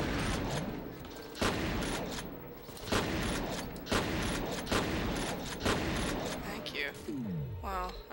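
Gunfire from the player's weapon in the shooter F.E.A.R. rings out in repeated heavy bursts, roughly once a second, loud and close over a dense background of combat noise, with a voice speaking at times.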